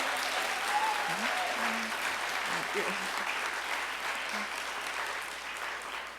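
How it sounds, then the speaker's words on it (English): Sustained applause from a large audience, steady and fairly loud throughout, with faint voices underneath. "give Keith Carson a round of applause"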